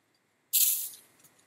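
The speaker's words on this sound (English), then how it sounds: "I'm going to give these just a quick light spraying of starch." One quick, light burst of spray starch hissing from a can onto fabric quilt pieces, close and sharp, fading over about half a second in an otherwise quiet room.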